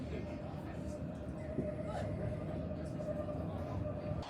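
Steady low rumble and hum from the interior of a Nottingham NET tram in motion, with a constant drone and faint rattles throughout.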